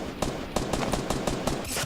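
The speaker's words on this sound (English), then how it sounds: "Man, just shots coming out right now." Gunshots in a Fortnite Summer Skirmish match, a string of sharp, fairly faint shots at irregular intervals over a busy game background.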